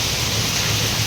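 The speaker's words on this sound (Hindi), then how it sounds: "कितनी तेज़ और ख़ूबसूरत बारिश हो रही है" Heavy rain pours down steadily on a rainy morning, a dense, continuous hiss of downpour close by with no voices.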